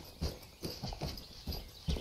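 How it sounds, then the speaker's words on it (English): Footsteps in a Tarkov-style survival shooter game that clop like horse hooves, five or six hollow thuds in an uneven walking rhythm, close and moderately loud over a soft hiss. "it does have a little bit of that weird horse hoof sound to it, doesn't it?"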